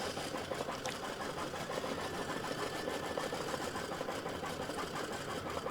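An embroidery machine stitches green thread onto an in-the-hoop Christmas gift tag with heat-transfer vinyl, a steady, fast mechanical whirring and needle clatter that runs loud and unbroken throughout.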